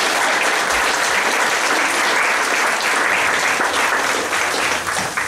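An audience at a community photo exhibition unveiling bursts into sustained, loud applause, a dense wash of clapping that holds steady for several seconds before easing slightly at the end.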